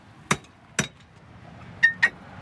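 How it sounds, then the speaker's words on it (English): Sharp metallic hammer blows strike a rusted-together axle assembly on a car being taken apart in a garage, with two spaced heavy hits followed by two quicker, ringing clinks, loud and close with no talking. "We need lube and a hammer to get this apart."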